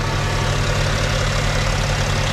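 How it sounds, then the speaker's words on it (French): A BMW X5 engine idles steadily up close during an automatic gearbox oil change, a constant low rumble with a dense mechanical drone and no pauses or talk. "On a mis le moteur tournant pour avoir de la pression."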